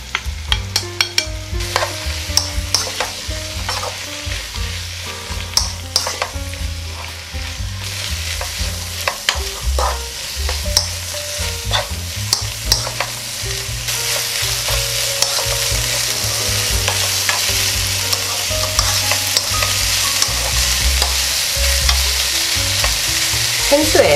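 Seasoned dried eggplant stir-fried in a spoonful of oil in a pan, a loud steady sizzle broken by frequent scraping and clacking of a utensil stirring throughout.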